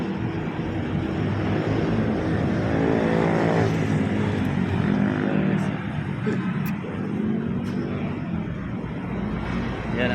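Steady highway traffic rushes past beside a truck van parked on the roadside in Kawit, Cavite, a continuous broad roar of passing vehicles with a swelling pass-by near the middle and a few faint high clicks.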